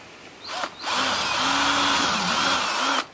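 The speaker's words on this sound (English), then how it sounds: "I've got a 3/32 drill bit, and I'm going to, way down at the bottom here," A power drill with a 3/32 bit briefly spins up, then whirs steadily for about two seconds while boring a hole in an RV sewer vent, its motor pitch wavering slightly before stopping.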